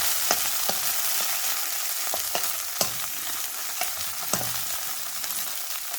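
Peas and noodles fry in a pan with a steady broadband sizzle, broken by several sharp spatula scrapes and taps spread across the stretch, with no talking.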